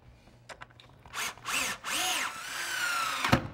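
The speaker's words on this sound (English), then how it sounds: "Here, drill those on." A power drill drives screws into wooden cleats while building a folding TV tray table, in several short whirring bursts that rise and fall in pitch, close and loud, ending with a sharp knock.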